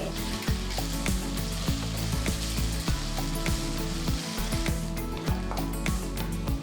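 Lightly crushed pepper and ginger-garlic paste fry in a pan for a tomato egg curry, giving a loud, dense sizzle with rapid repeated scraping clicks of a spoon mixing throughout.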